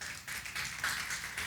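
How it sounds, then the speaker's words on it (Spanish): A church congregation applauds with steady, faint, continuous clapping that fills the room without pauses. "Le dan un aplauso al Señor hasta acá"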